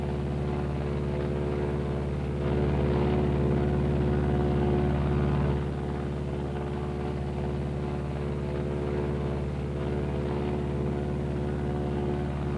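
A Martin B-26 bomber flies on its one remaining engine after the dead engine is feathered, a loud, steady, harmonic propeller drone that swells briefly early on and then holds even.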